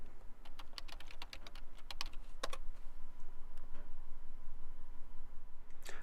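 Keys clatter on a computer keyboard as a password is typed for a sudo command, a quick close-up run of light clicks in bursts, then a few sparse taps, with no talking.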